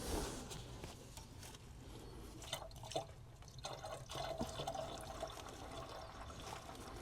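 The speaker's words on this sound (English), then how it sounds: "Time to add some water." Water is poured into an old 60-year-old International 6x6 army dump truck that has sat for years, giving faint, continuous trickling and dripping with small splashes throughout, no speech over it.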